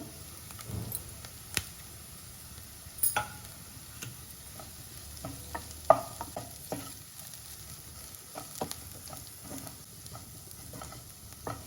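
Dried red chili pieces and curry leaves frying gently in oil in a pan, a low steady sizzle with occasional small pops and light ticks.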